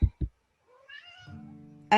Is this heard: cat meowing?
yes